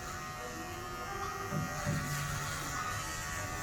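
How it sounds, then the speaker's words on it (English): Electric hair clippers buzz steadily at close range while cutting a flattop freehand, the hum shifting slightly in tone as the blades pass through the hair, with no talking. "then I'll go that way with the clippers as well"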